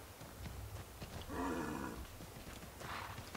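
Horse hooves clopping on a path in Assassin's Creed III, a soft, steady stream of game-world footfalls mixed with a low ambient bed and a brief brighter swell midway, no talk.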